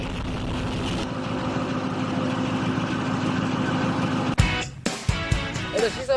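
A South Korean mechanized infantry division's tank is started for a test run after winter maintenance. Its loud, steady engine drone runs close up, then drops away abruptly into scattered clanks and knocks.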